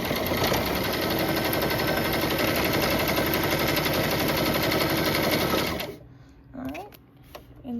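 A Brother sewing machine stitches fabric in a steady, rapid mechanical whir for about six seconds, then stops, and a voice speaks briefly afterward.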